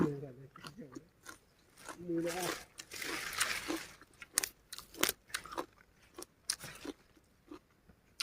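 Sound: chewing vegetables with chili paste

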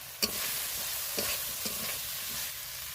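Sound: frying potatoes with ginger garlic paste

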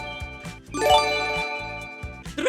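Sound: phone ringing

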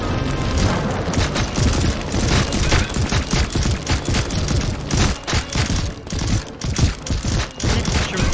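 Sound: gunfire blasting in the VR video game Dungeon Knight

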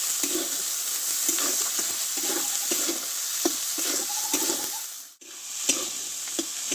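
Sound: ground spice paste being fried and stirred in a pan

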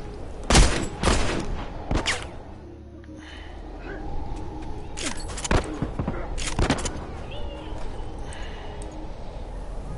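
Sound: gunfire burst in The Last of Us multiplayer video game

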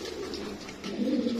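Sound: pigeon cooing at a bird sale

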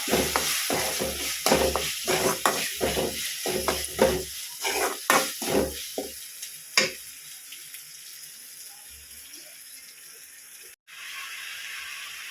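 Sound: onions and tomatoes sautéing in a pan

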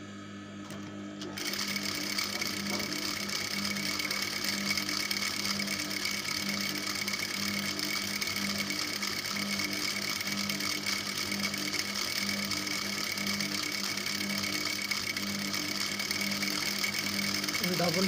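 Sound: sewing machine sewing a double stitch on baby skirt

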